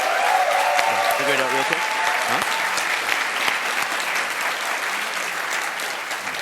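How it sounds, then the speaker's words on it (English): Sustained audience applause for Team SmartArm at the 2018 Imagine Cup World Championship finals, with a voice speaking briefly over the clapping at the start. "How about an additional round of applause for these guys?"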